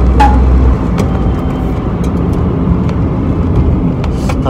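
A Daihatsu Mira Gino turbo kei car with automatic transmission, heard from inside while driving: a steady low engine and road drone with a brief louder burst at the start and faint clicks.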